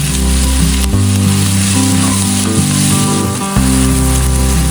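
Pepper, garlic, onion and tomato sautéing in a pan make a loud, continuous close-up sizzle with stirring scrapes, holding steady with a brief dip just before the end.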